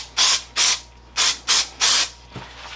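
Spray adhesive hisses onto seat foam while a Dodge Ram seat bottom is being reupholstered: five short, loud close bursts in a steady rhythm, then a fainter sixth puff, with no talk.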